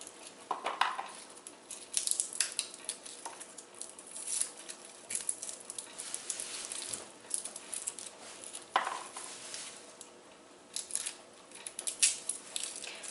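A kitchen knife blade pressed down onto garlic cloves to crush them, giving soft, scattered crunching and tapping clicks at close range, quiet and intermittent with a couple of sharper bursts.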